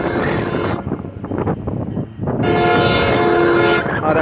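NJ Transit Bombardier ALP-45DP locomotive, number 4516, passing eastbound in Middlesex, New Jersey, with a steady loud rumble and wheel noise, then a sustained horn blast sounding near the end, close by.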